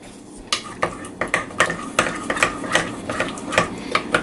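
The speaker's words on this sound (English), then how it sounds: "This is more like mixing the scallops in the butter" Scallops tossed in melted butter in a bowl, heard as a quick series of clinking, tapping utensil hits against the bowl in an uneven rhythm, close and fairly loud.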